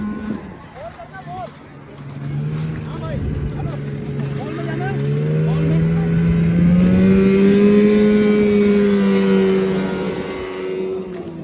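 Car driven fast in snowy Manali, its engine note climbing steadily as it accelerates and then holding a strong, rising drone, with people talking loudly over it throughout.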